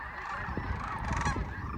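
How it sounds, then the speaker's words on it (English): Snow geese honking in flight, a dense overlapping chorus of calls from a large flock moving across the sky at Whitewater Draw, steady and fairly loud throughout. "But this is very beautiful with these nice white snow geese"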